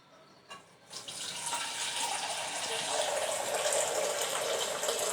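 Water pours steadily, likely into a pot or cup while tea is being made with milk, a continuous splashing gush that starts abruptly after a brief quiet moment and holds at a fairly loud, even level.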